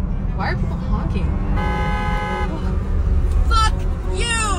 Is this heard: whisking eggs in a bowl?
no